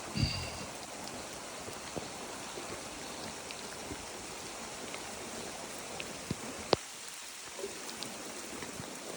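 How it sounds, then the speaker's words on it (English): Steady light rain patters softly on the Appalachian Trail over a constant wet hiss, with occasional sharper drips standing out. "Rain's lightened up a little bit."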